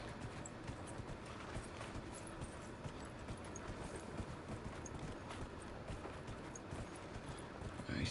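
In a PS4 video game, horse hooves clip-clop in a quick, continuous rhythm under a soft wash of background noise, faint and unbroken throughout, with no speech.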